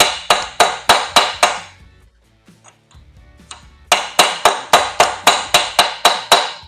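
A hammer strikes a metal part while seating it during an LS engine cam, timing set and oil pump install, landing as a steady run of loud, ringing, evenly spaced blows, then a short quiet gap with light clinks before another even series.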